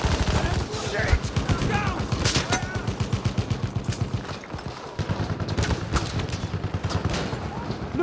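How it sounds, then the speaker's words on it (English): Sustained machine gun fire in Battlefield 1 hammers out in long rhythmic bursts, loud and close, broken by a short pause, with shouting voices heard between the shots. "Look out! Machine gun!"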